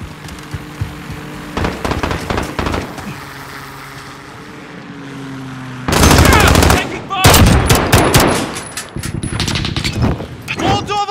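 Gunfire in Call of Duty: Modern Warfare (2019) in realism mode: loud, close automatic bursts and sharp single shots broken by quieter gaps, with voices heard between volleys.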